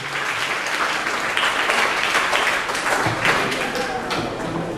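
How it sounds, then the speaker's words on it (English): Audience at a Rotary Club District 9141 World Interact Day conference clapping, a dense, steady round of applause heard throughout, fairly close, with voices mixed underneath. "Everybody, so clap for yourself."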